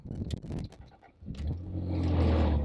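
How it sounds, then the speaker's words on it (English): A 2004 MG ZT with a 2.5-litre V6 cranks and fires after a moment of quiet clicks, its roar rising and then settling into a steady, close idle. "Okay, so we shall now start the engine."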